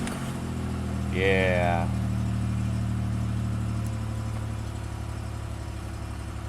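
A car engine cranks with a rising starter whine and catches, then settles into a steady low idle during an end-of-year oil change at home, with a brief spoken word over it.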